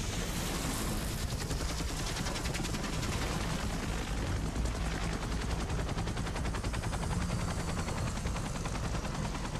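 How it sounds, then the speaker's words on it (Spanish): Rapid sustained gunfire from a video game battle in Far Cry 3, dense and continuous with a helicopter's throbbing rotor blended underneath, filling the whole stretch without talk. "Ahí viene un helicóptero, ¿no?"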